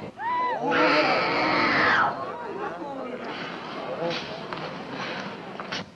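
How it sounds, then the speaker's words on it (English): People screaming in a scene set at a drama class in an old horror film: a loud, sustained shriek rising over excited crowd chatter, then trailing into overlapping voices and commotion with footsteps. "Don't stand there and scream."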